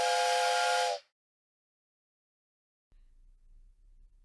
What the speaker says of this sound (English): The train made a loud noise and started to move.